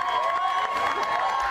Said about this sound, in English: realizes this huge cheering crowd was there to celebrate him